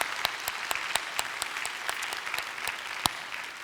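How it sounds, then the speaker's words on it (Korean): A church congregation at a Korean dawn revival service applauds, with rapid, sustained clapping from many hands that fills the room at an even level. "우리 하나님께 영광의 박수 올려드립니다."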